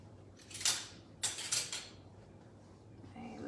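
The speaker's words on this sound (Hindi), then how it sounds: "सो इसको अब मैं इस तरह से with a spatula I will just mix this once" A spatula mixes dark chocolate in a bowl, making a few quiet scraping and clattering strokes spaced apart, with low room noise in between.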